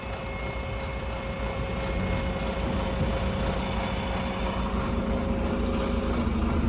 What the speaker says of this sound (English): I can see my bus in the distance.